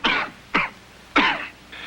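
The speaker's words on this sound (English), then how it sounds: "When congestion causes cough," A man coughs in a vintage cough syrup commercial, three sharp, close coughs spaced about half a second apart, then a softer throat-clearing sound at the end, with no talking.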